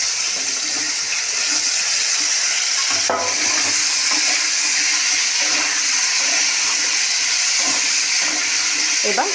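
Whole cumin seeds, tomatoes and diced potatoes fry in hot oil with a steady, loud hiss and sizzle that runs the whole time. Occasional stirring clatter and a brief knock break through it.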